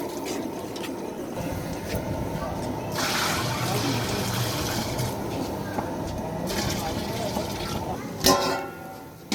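Water poured in a steady, washing stream into a large deg (cooking pot) holding 14 kg of rice for a wedding dinner, swelling louder midway and near the end, with a voice talking over it and a sharp knock near the close.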